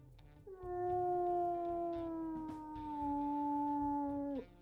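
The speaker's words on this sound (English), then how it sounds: "We'll listen to his howls." A single long, mournful wolf howl in the video game WolfQuest, steady and slightly falling in pitch, sounds clearly over faint background noise.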